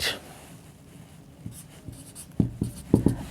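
A pen or chalk writes on a board during a maths lesson on sets. Quiet scraping strokes build into a cluster of sharper taps and scratches toward the end, with no voices.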